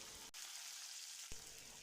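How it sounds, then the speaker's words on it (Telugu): Faint, steady sizzling of spices tempering in hot oil for peanut chutney, broken by a couple of soft clicks, with no voices. "ఇది పల్లి చట్నీలోకి పోపు"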